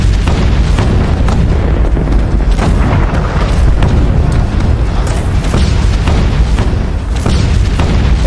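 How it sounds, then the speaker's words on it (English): Ottoman cannon artillery fires at the siege of Constantinople in 1453, a dense run of heavy booms and blasts that stays loud from start to finish. "He gave the artillery orders to start firing at the markets."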